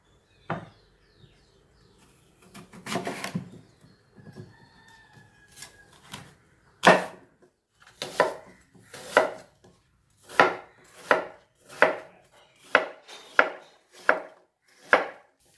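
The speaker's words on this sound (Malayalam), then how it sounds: "ഞാൻ ഇനി ഇതിൻ്റെ സ്കിന്നൊന്ന് റിമൂവ് ചെയ്തിട്ട് ഇതൊന്ന് കട്ട് ചെയ്ത് എടുത്തിട്ട് വരാം." A knife peels and cuts a green apple on a board, with a few scattered scrapes early on, then a steady run of crisp, evenly spaced chopping cuts, close and fairly loud, with no talking.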